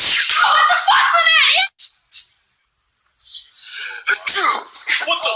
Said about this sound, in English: This is the sneeze prank.